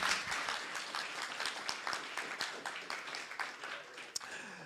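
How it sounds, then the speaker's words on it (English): Audience members at a tech conference demo session applaud a presenter, producing steady, moderately loud clapping with scattered individual claps standing out, lasting nearly five seconds. "Liv, round of applause"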